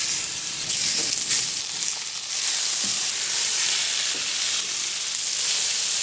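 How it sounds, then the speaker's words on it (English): Blackened catfish fillets sizzle on a hot griddle, a loud steady frying hiss with occasional crackles. "I'm going to go get these on the griddle now."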